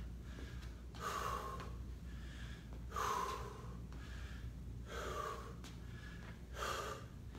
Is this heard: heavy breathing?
yes